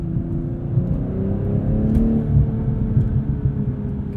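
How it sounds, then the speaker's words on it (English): The B58 engine of a 2022 BMW M240i xDrive Coupe on a night drive gives a steady, smooth hum from inside the cabin, with a slight swell in pitch midway. "This B58 sounds fantastic too."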